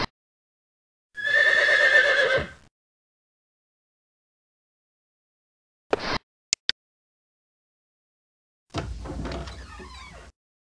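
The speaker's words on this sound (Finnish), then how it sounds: "Vanhan talon kuistella seisoo hevonen." A loud horse whinny rings out alone in a Pippi Longstocking video game, followed after silence by a few sharp door knocks and then a rumbling sliding-door sound.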